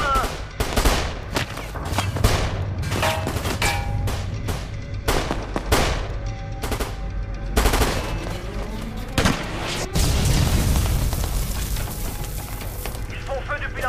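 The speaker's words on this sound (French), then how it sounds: "Ils font feu depuis la mosquée." A war film battle at a mosque, with bursts of rifle and machine-gun fire in sharp, rapid cracks, dense at first and then thinning into scattered shots under a constant background din.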